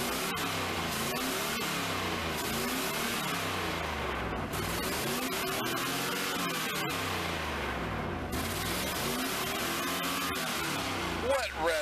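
A Pontiac Trans Am engine revs hard again and again up close, its pitch sweeping up and falling back in repeated waves, loud and rough, with people talking over it.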